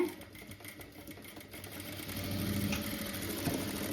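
A sewing machine stitches elastic onto pants. It gives a rapid, rhythmic mechanical whirr at close range that grows a little louder partway through, and no one talks over it.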